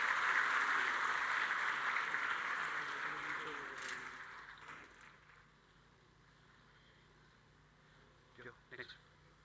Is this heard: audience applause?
yes